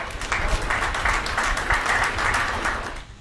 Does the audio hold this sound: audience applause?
yes